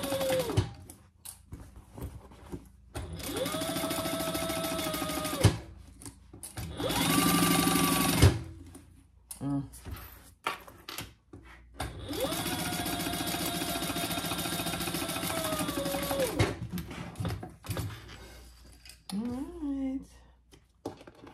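A sewing machine stitches a narrow eighth-inch seam to close the turning hole on a laptop or iPad case, running in several bursts of steady whirring separated by pauses, with brief soft talk and handling noises between runs.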